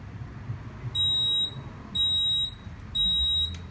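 Edwards fire alarm control panel sounding a trouble alarm: three loud, shrill electronic beeps, each about half a second long, repeating at a regular one-second rhythm over a quiet room background.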